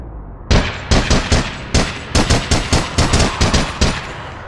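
Rapid bursts of gunfire in APB Reloaded, a game, sharp loud shots in quick irregular clusters over about four seconds, close and alone with no voices.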